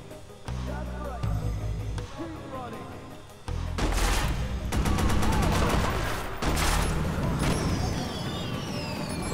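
Gunfire in the video game Watch Dogs Bad Blood, with loud sustained bursts of fusillade-like shooting over a dense game soundscape after a quieter opening, under a talking voice.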